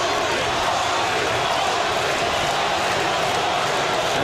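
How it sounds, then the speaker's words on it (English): Boxing crowd at Mohegan Sun cheering for Paulie Malignaggi, a steady dense roar of many voices filling the arena without a break. "And the Brooklynites serenade him here at the Mohegan Sun"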